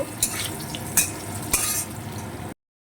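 Potatoes sizzle in hot oil while being stirred, with three sharp utensil clinks against the pan over a continuous frying hiss that cuts off abruptly.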